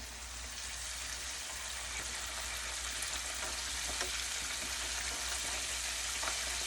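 Tilapia and kale sizzling in a pan while being stirred, a steady close crackle and hiss with faint scraping ticks throughout, no voices.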